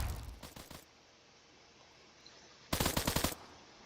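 Four gunshots fired at range in a Roblox game. Two quick bursts of sharp cracks come first, then a quiet stretch, then a louder rapid cluster of shots near the end.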